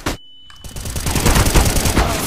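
Rapid automatic gunfire in the game CS:GO bursts in loudly after a short silent gap, continuing as a dense, sustained volley of shots for about two seconds.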